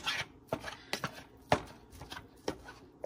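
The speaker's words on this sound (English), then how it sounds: "You're gonna use this whisk to smash it all up." A wire whisk smashes a boiled egg into bite-sized pieces in a bowl, giving a run of sharp, irregular clacks and taps up close with no talking.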